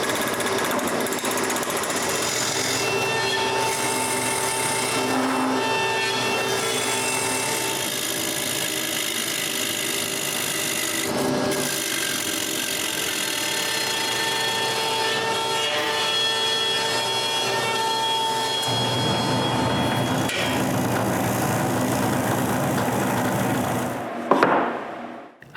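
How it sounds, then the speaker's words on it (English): Wood lathe turning round wooden bowls, a steady continuous whirring grind with scraping tool contact, loud and close throughout, stopping near the end. "So I jumped on the lathe and turned more round bowls."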